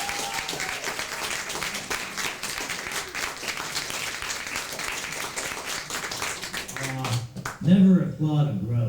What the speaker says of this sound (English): Never applaud a grouch.